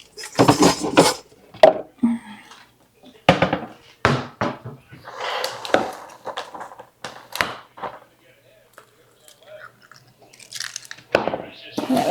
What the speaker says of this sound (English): Let me grab out another bowl.